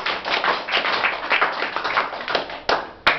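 Children clap loudly in a school setting, a dense burst of rapid, overlapping hand claps that continues steadily, ending with a couple of sharper isolated claps.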